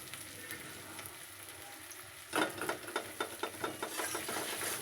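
Onion fries in a frying pan in leftover potato-frying oil: a soft sizzle, then from midway louder rhythmic scraping and stirring strokes over a steady crackle, close by.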